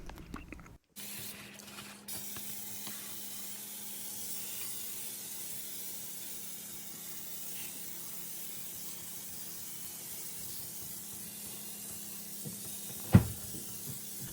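Easy-Off oven cleaner hisses out of an aerosol can in one long, steady spray lasting more than ten seconds, faint and close, ending with a sharp click.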